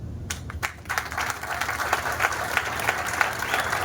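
Audience applause during a public speech in Latur, a few scattered claps building quickly into steady, sustained clapping from a crowd.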